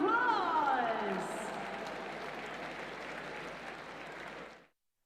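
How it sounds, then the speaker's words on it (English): Audience applause at an evening sporting event in London, a full round of clapping that starts under a speaker's voice, continues steadily and then cuts off abruptly. "Give them a massive round of applause."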